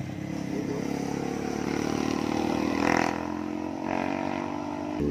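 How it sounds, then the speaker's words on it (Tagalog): A big motorcycle passes on the road, its engine note rising and swelling to a peak before fading, heard over steady traffic background. "Big bike oh."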